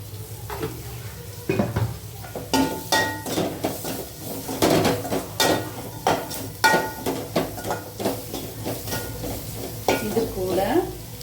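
Spicy squid thokku stir-fried in oil in a pan, Nagercoil style, with a steady sizzle under repeated clanks and scrapes of a spatula against the metal, close and fairly loud throughout.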